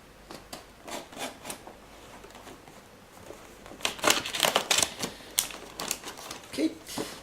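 A package is cut open with a knife: scattered crisp slicing and tearing scrapes, sparse at first, then a denser, louder burst of cuts and rustles, close up with no talk.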